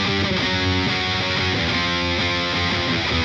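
A heavily distorted electric guitar chugs and rings through a Hughes and Kettner Spirit Nano high-gain amp, thick and loud, with palm-muted riffing and no voices.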